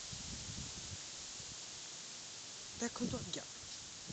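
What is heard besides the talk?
strong wind rustling leaves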